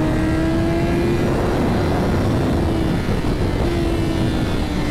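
A sports motorcycle engine drones loud and steady at close range on the Jerez race track, its tone holding fairly constant with a slight dip near the end and wind rush underneath.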